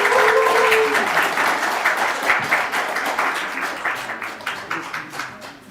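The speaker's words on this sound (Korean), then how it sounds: "네, 큰 박수 부탁드립니다" Steady audience applause fills the hall at the 2023 Korea Internet Journalist Awards ceremony, dense and even at first, then thinning into more distinct, separate claps toward the end.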